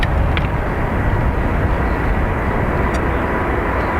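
An Airbus A350 departing Dublin Airport for Atlanta: a loud, steady jet roar fills the whole stretch without easing, dense and rumbling, with no voices over it.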